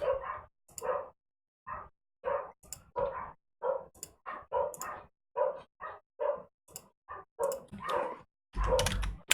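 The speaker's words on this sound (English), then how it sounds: "I've got dogs now." Dogs bark repeatedly in short bursts at a fairly even rhythm, clear and close, with no talk during them and a louder, noisier burst near the end.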